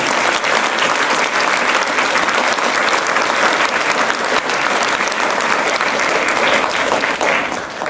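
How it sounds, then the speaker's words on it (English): Loud, sustained applause from the audience at a city council candidates' debate, a dense, even roar of clapping lasting several seconds before easing slightly at the end. "let's give the candidates a round of applause"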